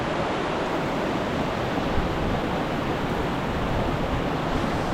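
The Miljacka river rushes through a karst cave passage, a dense, steady roar of flowing water that stays even and loud throughout with no pauses.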